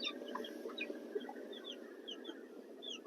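Several chickens clucking softly in short, scattered calls over a low steady background hum, fairly close by.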